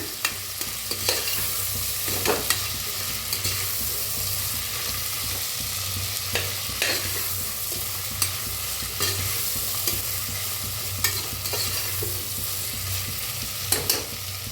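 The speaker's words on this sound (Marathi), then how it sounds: "आता ह्याच्यात शेंगदाणा बी भाजून घेऊया" Peanuts roasting in a pan are scraped and stirred continuously, with dry rattling and scraping strokes over a steady low hum, each stir landing as a sharp tick. No one speaks.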